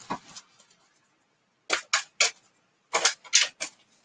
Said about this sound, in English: So now, Sue, as soon as you feel that I've shuffled enough, I want you to tell me when to stop